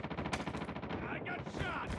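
Rapid automatic gunfire in the Call of Duty Mobile game, a dense rattling burst of closely spaced shots that carries on without pause and stays loud the whole time.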